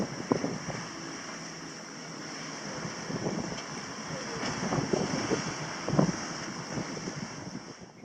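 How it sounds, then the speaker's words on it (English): Gusting wind rumbles across the microphone on a sailing boat at sea, a steady roar that rises and falls with scattered knocks and flaps. "The wind changed from 8 to 18 knots."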